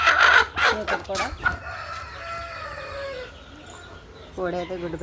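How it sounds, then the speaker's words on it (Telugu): A hen cackles loudly after laying an egg, a burst of sharp repeated clucks up close, then quieter drawn-out calls over a low background hum, with more clucking at the end. "కోడి అయితే గుడ్డు పెట్టిందన్నమాట."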